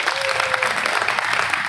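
Dense, continuous clapping fills the room as the audience at a Hindi comedy poetry gathering (hasya kavi sammelan) applauds together, loud and sustained throughout.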